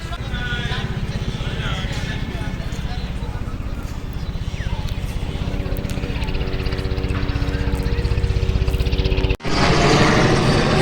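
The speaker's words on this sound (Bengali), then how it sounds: "হেলিকপ্টার গেল স্মৃতিসৌধের উপরে থেকে" A helicopter's rapid rotor thumping pulses loudly and continuously overhead above the National Martyrs' Memorial in Savar, Bangladesh, with voices faintly underneath.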